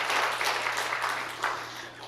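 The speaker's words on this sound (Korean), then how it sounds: "우리 주님께 감사의 박수 돌리겠습니다." Congregation clapping together in a church during a Sunday evening worship service, a steady dense patter of many hands filling the room for about two seconds before easing off slightly.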